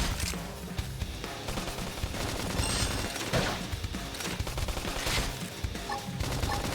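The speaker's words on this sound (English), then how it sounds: "If we can just topple them with gunfire." Rapid bursts of gunfire from a video game battle, dense overlapping shots and rattling automatic fire continuing steadily for several seconds amid busy game effects.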